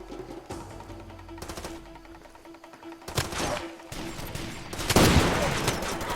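Enemy gunfire in the first-person shooter Far Cry 2: several sharp bursts of shots and rattling fusillades, loud and close, growing denser toward the end, with a low hum and a little talk underneath.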